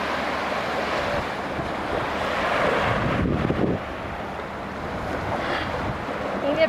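Ocean surf rolling onto a beach beside a villa at Kandolhu in the Maldives, a steady wash of waves with a brief swell midway, mixed with wind buffeting the microphone.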